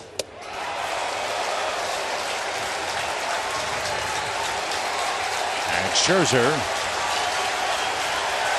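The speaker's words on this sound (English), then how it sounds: "brings this crowd to its feet in New York." A baseball crowd in New York cheers and rises to its feet at a Braves–Mets game as Max Scherzer pitches. Dense, steady roar throughout, swelling slightly near the end, under a commentator's voice.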